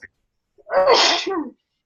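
One sharp, close sneeze bursts out after a moment of quiet, then silence.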